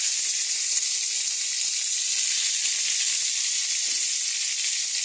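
Potatoes and cauliflower sizzle steadily in hot oil in a frying pan, a loud, continuous hiss with faint stirring clinks and no voices.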